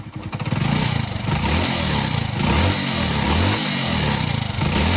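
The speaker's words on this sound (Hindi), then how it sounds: "देखिए स्प्लेंडर प्रो है गाड़ी। इसमें एक आवाज़ आ रहा है," Hero Splendor Pro motorcycle engine running steadily with an abnormal, uneven mechanical noise, loud and close throughout, with a rhythmic pulsing in the lower register and no talk.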